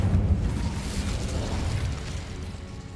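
A fiery Incendio spell effect cast at a giant spider erupts in a dense, rumbling whoosh with a loud, deep burst at the start that stays strong and slowly eases over three seconds.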